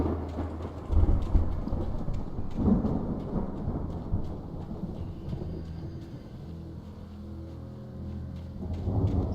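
A thunderstorm in the video game Alan Wake: steady heavy rain hissing under deep rolling thunder, with a louder rumble early on and another building at the end, no voices.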